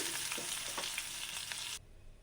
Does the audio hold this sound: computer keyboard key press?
no